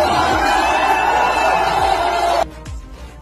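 A large crowd of Chandrashekhar Azad supporters at an Azad Samaj Party rally in Delhi gives off a dense, steady roar that cuts out sharply near the end, leaving quieter background noise.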